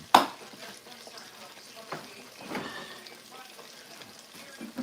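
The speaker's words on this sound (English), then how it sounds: "This one fish gotta be done. you can tell by the sound of the grease" Fish frying in hot grease gives a steady crackling sizzle with a sharp clatter at the start and a few brief bursts of stirring, heard up close with no talk.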